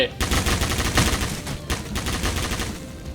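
A 12.7 mm machine gun fires in the Roblox game Military Tycoon, loud dense bursts of rapid shots with short breaks, close and continuous across the moment.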